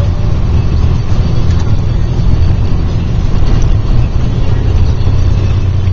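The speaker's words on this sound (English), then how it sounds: "We just got on the highway." Steady, loud road rumble and engine drone from inside a car cruising on a highway, continuous and close throughout with no speech.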